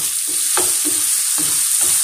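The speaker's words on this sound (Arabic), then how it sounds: "صافي غادي نخلي الدجاج ديالي يبقى يطيب" Chicken sizzling in a frying pan, a steady bright hiss of frying fat with a few soft stirring scrapes and clicks, close and continuous, no voices.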